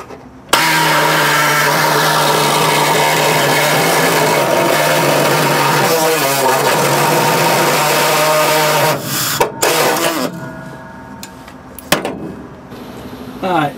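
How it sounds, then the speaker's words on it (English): Jigsaw cutting through the metal floor pan of a Ford F100, a loud, steady high buzzing that runs for about nine seconds and then stops, followed by clanks, handling noises and brief talking. "let's get a jigsaw across there"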